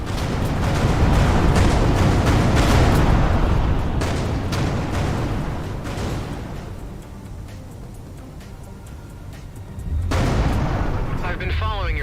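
A heavy explosion rumbles through a space combat scene in the video game Everspace 2, with dense booming bursts and crackling debris that ease into a lower roar before a second loud blast near the end.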